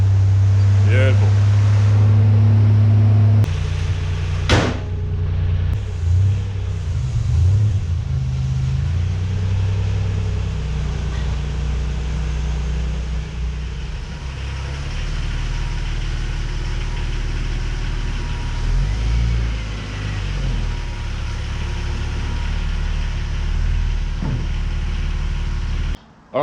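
An old Ford Falcon's engine fires up and runs with a deep, steady low rumble close by in a workshop, its idle broken by a few sharper revs, while people talk over it.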